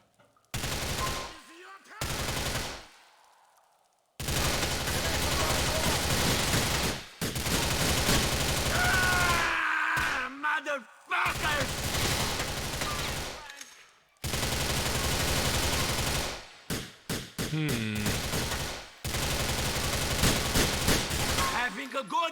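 Gunfire in the video game GTA IV comes in repeated loud bursts of shots and fusillades, broken by brief silences, with voices talking between and over the shooting.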